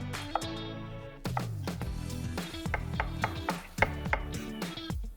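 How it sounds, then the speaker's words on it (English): Knife slicing onions on a cutting board makes a quick run of crisp, close chopping taps, irregular and rapid, with a short pause after the first few strokes. "We are just slicing the onions."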